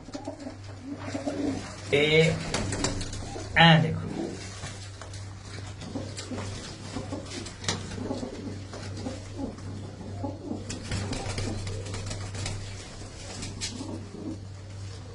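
Pigeons coo at a home loft, soft repeated calls near and far under ongoing talk, with a couple of louder bursts of wing flapping or handling noise, a steady low hum beneath.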